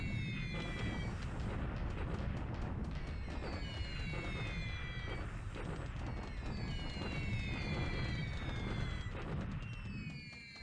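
Bombing raids in a WWII Pacific strategy war game over Singapore, January 1942, produce a dense, continuous rumble of explosions with rapid crackling bursts and whistling tones layered throughout.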